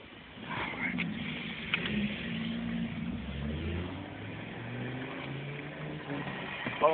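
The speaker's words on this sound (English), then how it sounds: "All them damn cars and stuff." Street traffic outside a long queue stretching around the block, a continuous rumble of car engines idling and rolling past nearby, with voices talking over it.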